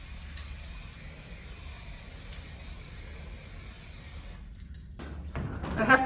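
A very fine spray of finish hisses steadily onto a wooden cocktail cabinet, a constant close airy wash that cuts off near the end, followed by brief faint movement and a voice starting to speak.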